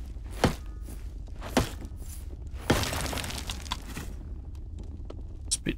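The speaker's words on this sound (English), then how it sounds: "Oh, can I smash these rails?" Wooden balcony rails broken up in Return to Moria, the Lord of the Rings survival game: several distinct cracking smashes spaced across a few seconds, one longer crunching break with scattered clatter, with faint footsteps and ambient hum between.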